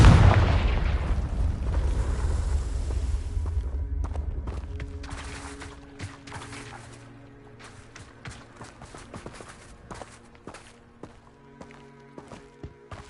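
Confringo blasting spell explosion in a Harry Potter video game: a loud, booming burst at the start that decays into a fading rumble, followed by scattered faint clicks and ambient tones.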